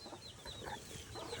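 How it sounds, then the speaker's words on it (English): A chicken clucks in short, faint murmuring calls that run through a steady, noisy background, with no speech. "This chicken is a criminal."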